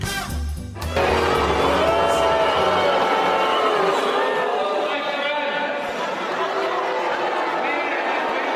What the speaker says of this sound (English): That is a bunch of Canadians booing their soon-to-be former Prime Minister Justin Trudeau